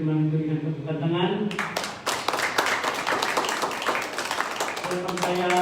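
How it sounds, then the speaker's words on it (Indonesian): A church congregation claps along during a Sunday worship service, steady dense clapping starting after a sung or spoken passage and continuing under voices throughout. "mari kita sambut firman itu dengan tepukan tangan"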